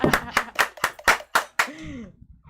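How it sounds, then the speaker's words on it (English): A few people in a radio studio clap in quick, sharp, uneven bursts, close and loud, ending with a short spoken trail-off. "Yeah, clap for that shit."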